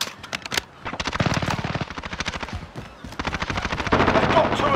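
Rapid automatic gunfire from a Domination match on Suldal Harbor in Call of Duty Modern Warfare, loud bursts and single shots crackling almost continuously, with short pauses and dense firing toward the end.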